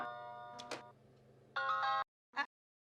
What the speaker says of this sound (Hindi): माय डियर बेना का फोन आ रहा है